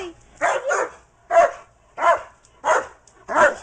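A pet dog gives six short, sharp barks in a steady series, close and fairly loud, with quiet pauses between them in a home setting.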